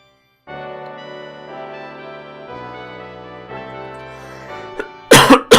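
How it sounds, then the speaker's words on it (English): Game music from Vandal Hearts plays steadily, then a person coughs twice in quick, loud bursts near the end. "my cough hasn't quite gone yet"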